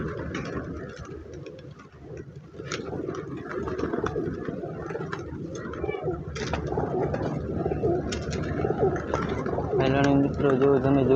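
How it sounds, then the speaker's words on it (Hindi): Pigeons at Porbandar Chopati coo and flutter in a dense, continuous crowd, with steady low cooing building slightly in loudness, mixed with background chatter and bustle throughout. "ये कबूतर आत्मा खाने के लिए आ गया है"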